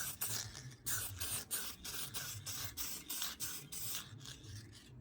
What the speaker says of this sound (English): Obviously it's gloss spray paint. It's clear coat.